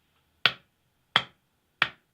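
Three single hand claps played through a Bluetooth speaker during a latency test, each sharp and close, evenly spaced about two-thirds of a second apart with brief decay and silence between.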